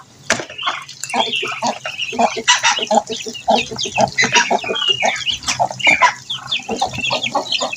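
Chickens cluck busily and continuously at close range during feeding, with a few sharp louder calls standing out from the steady chatter of the flock.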